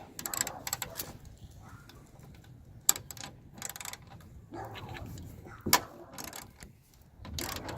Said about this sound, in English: you need the 10 millimeter socket, and you got to remove the top bolt on the side of the tailgate